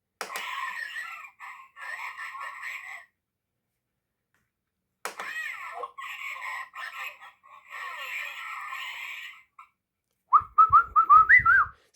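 Electronic bleeps, whistle-like tones and short warbling chirps from a Star Wars Dejarik electronic board game, arriving in several bursts separated by silence and ending in a louder run of rising chirps.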